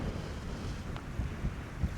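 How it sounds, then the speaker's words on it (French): Steady wind roars and buffets the microphone on a sunny mountain trail in the Pyrenees between France and Spain, with a constant low rumble and no voices. "Donc gros ciel bleu, mais voilà, il y a du vent."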